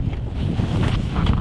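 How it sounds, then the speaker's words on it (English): Strong wind buffets the microphone on a cold bridge, a loud, continuous roaring rumble with gusty surges throughout. "I'm not gonna stand on a windy bridge"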